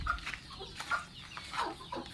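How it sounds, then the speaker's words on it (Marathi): Desi hens clucking softly while settled in a bucket to lay eggs, a few short, close clucks and murmurs over a quiet background. "आणि तुम्हाला इकडं दाखवतो बघा कशा कोंबड्या बसलेल्या आपल्या बादलीमध्ये बघा"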